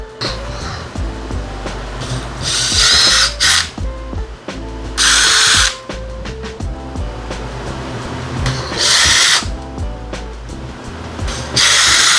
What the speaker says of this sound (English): I'm going to pre-drill some holes